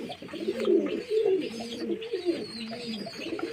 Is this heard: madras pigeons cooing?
yes